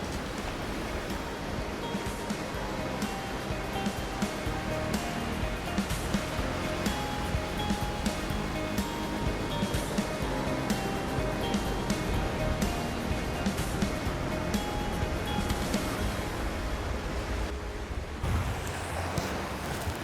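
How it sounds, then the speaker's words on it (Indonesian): Waves break on the shore of a clean sea, a continuous broad roar and wash with wind noise and no voices, rising and falling steadily over twenty seconds. "Suara deburan ombak yang berasal dari laut yang bersih ini"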